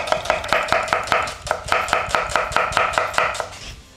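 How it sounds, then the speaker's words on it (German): Knife chopping an onion on a cutting board, a quick, evenly spaced series of about twenty sharp close knocks in a steady rhythm, with no talking. "Als nächstes hacken wir ganz kurz die Zwiebel."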